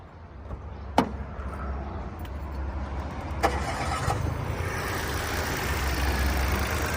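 A 2013 Mitsubishi Mirage 1.2 engine cranks and catches with a few sharp clicks, then settles into a steady, rumbling idle.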